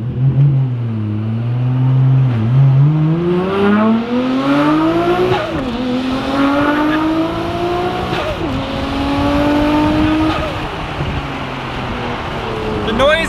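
A 500 HP Nissan R34 GTR V-spec engine revs up repeatedly through rising gears on a street, loud and close, with sharp hiss-like releases from an HKS Super Sequential blow-off valve between pulls and voices occasionally under the noise.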